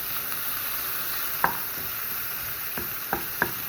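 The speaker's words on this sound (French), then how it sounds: "Et on mélange l'ensemble." Minced meat seasoned with pepper and herbes de Provence is stirred and sautéed in a pan for stuffed zucchini. A steady soft sizzle runs under a few sharp spatula scrapes and clicks against the pan, with no speech.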